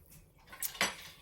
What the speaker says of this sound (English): Maybe I should get that whisk back in there. That's kind of clumpy.